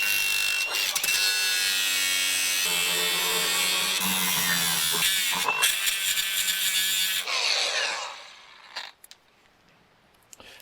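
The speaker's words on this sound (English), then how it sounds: "the easiest, best thing I know is to just grind them off" An angle grinder grinds off broken bolts on a truck with a loud, steady high-pitched whine and buzz that shifts in pitch under load, then winds down and fades, followed by a few light clanks.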